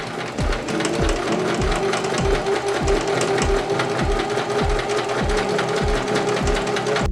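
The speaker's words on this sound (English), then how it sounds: "I couldn't sew it all down with my sewing machine" A sewing machine runs steadily nearby, its needle thumping in a fast even rhythm with a whirring motor underneath.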